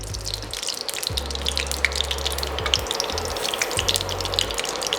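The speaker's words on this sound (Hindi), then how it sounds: "अब मैरिनेटेड चिकन को हम थोड़ा भूनेंगे।" Ghee heating in a kadhai before marinated chicken goes in for dhaba-style kadhai chicken, giving a steady hiss and crackle with watery bubbling, broken by low hum bursts in the background.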